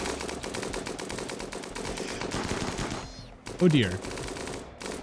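Colonists' gunfire in the RimWorld video game crackles as dense, rapid shots through the first three seconds, followed by a brief pause and a louder burst, with a voice speaking over the shooting.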